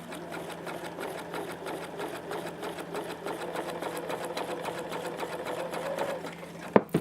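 Sewing machine stitching an invisible zipper seam, a fast steady mechanical chatter of the needle running continuously at close range, ending with a couple of sharp clicks as it stops.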